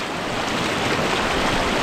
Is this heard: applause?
no